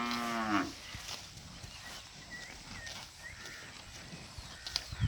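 A desi cow on a farm near Arifwala gives one short, close moo at the start, followed by quieter farmyard ambience with faint rustling and knocks.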